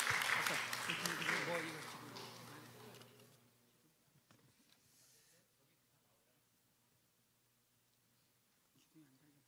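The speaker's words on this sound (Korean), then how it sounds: "자, 일단 박수." A small group in a church parents' class claps for about three seconds, then the applause fades into a quiet room with faint voices.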